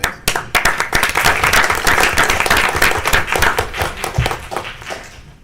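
A small group at a commission meeting claps, with distinct individual hand claps merging into a moderate, steady round of applause lasting a few seconds before thinning out.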